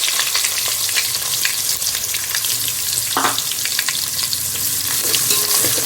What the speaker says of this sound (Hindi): अच्छे से इसको तेल में भूनेंगे, ब्राउन होने तक भूनेंगे